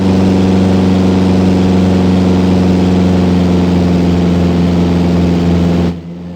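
A Mooney M20J piston engine in the X-Plane flight simulator drones steadily with strong low harmonics as its RPM is set to 2,400, holding loud and even before cutting off abruptly near the end.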